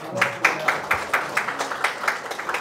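An audience at a Hwaseong City residents' participatory budget committee general assembly claps at a brisk, even pace, with distinct individual claps repeating for under three seconds in a meeting hall.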